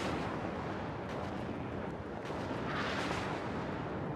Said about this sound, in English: Artillery in, forcing BeerBeer to push up.